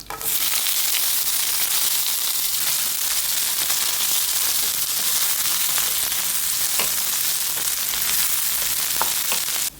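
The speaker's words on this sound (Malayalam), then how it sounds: "കടുക് പൊട്ടി വരുമ്പോൾ നമ്മൾ അരിഞ്ഞു വെച്ചിരിക്കുന്ന അങ്ങോട്ട് ഇട്ട് കൊടുക്കാം." Chopped onions and chillies fry with mustard seeds in hot coconut oil, a loud, continuous close-up sizzle with faint crackles and occasional stirring scrapes, no talk over it.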